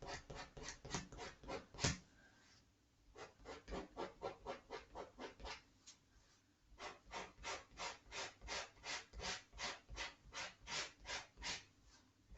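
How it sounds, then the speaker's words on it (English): Rhythmic rasping scrapes as a blade is drawn across oil and wax tanned leather to rough it up for gluing a kukri sheath, steady repeated strokes close up with a brief pause midway and no talking. "it really will resist the glue if I don't scrape enough of this off"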